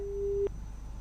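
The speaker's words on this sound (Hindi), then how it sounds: "इरशाद का फोन कट गया" A steady electronic busy tone hums for about half a second on a live TV phone-in line after a caller is cut off, then stops abruptly, leaving faint background hiss.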